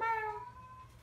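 Cat giving a single short meow that falls in pitch, faint and close, fading quickly into quiet background.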